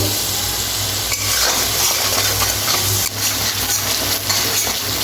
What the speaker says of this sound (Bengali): এর মধ্যে একটু জল দিয়ে দেবো যাতে মশলাটা পুড়ে না যায়। মশলাটা কষিয়ে নেব।